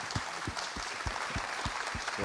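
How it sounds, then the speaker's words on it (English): An audience at an awards ceremony gives a fairly faint, brisk round of applause, with rhythmic claps continuing for about two seconds. "Big round of applause for This Is Our Future."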